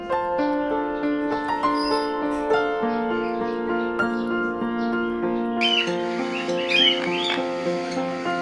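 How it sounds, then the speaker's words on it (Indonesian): Various birds in Cynthia's bird collection squawk and chirp in scattered, overlapping calls, fairly close, over steady sustained tones, with a louder burst of squawking near the end. "Inilah beragam burung koleksi Cynthia"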